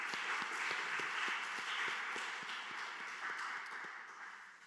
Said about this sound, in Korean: 선생님들 한 분 한 분 다시 한번 축복하는 박수 하도록 하겠습니다